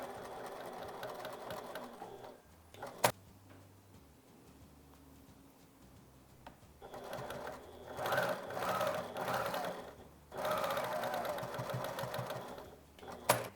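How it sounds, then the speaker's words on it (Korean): A sewing machine stitches a folded 1 cm fabric strap into a tube, running in several bursts with quiet pauses between them, close and fairly loud, with no talking. "다시 1cm로 접어서 한 바퀴 둘러가면서 봉제를 해주시면 스트랩 끈 완성입니다"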